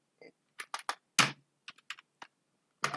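Typing HTML code for a form input element on a computer keyboard. About a dozen sharp, close keystrokes come in uneven little bursts separated by pauses, with no talking.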